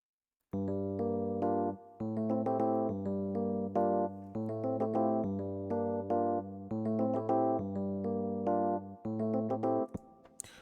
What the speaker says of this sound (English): I went ahead and I added this vintage EP